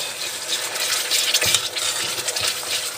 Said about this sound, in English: I can stir it, and I stir it, and I stir it for like about 3 minutes